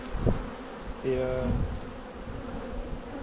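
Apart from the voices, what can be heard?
honeybees at the hive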